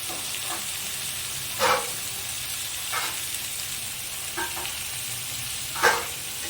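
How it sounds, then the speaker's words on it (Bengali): Garlic added to hot oil in a pan for a Bengali Bhola fish curry, giving a steady soft sizzle with a few brief louder stirring scrapes, with no talking. "এবার রসুনটা দেওয়া হবে।"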